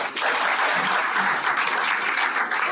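Audience applause fills a fire safety seminar hall at Surendera Group of Institutions, a dense, steady wash of clapping that starts almost at once and holds evenly throughout, with no talk over it.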